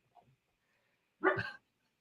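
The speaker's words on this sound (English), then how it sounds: "My dog's barking at the thunder." A dog gives a single loud bark, near and clear, during a thunderstorm, with a couple of faint short sounds just before it.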